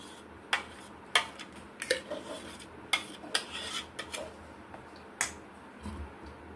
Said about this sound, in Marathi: आता हे आपण एका भांड्यामध्ये काढून घ्यायचं आहे